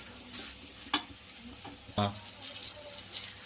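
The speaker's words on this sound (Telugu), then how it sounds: "బాగా చక్కగా ఏగిన కాయలు, కారం పట్టింది కాయలకి" Bitter gourd curry with tempering spices fries in a pan at a low, steady sizzle, broken by two sharp scraping clatters of stirring.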